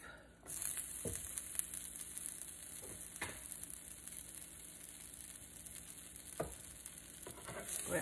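A sandwich with provolone set back into a pan on the stove and frying, with a steady close sizzle, a few clanks and scrapes of stirring or moving it, and no talking.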